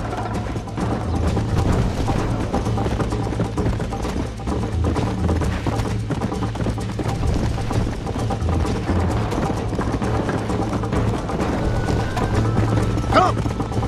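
Horse hooves clip-clop steadily in Red Dead Redemption, set in New Austin, a continuous loud rhythmic trotting running the whole time under game music and ambient noise.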